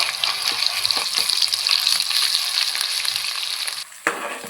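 Onion paste with green chillies frying in hot oil for a fish curry, a loud bright sizzle with spoon stirring that drops away abruptly, then briefly flares again.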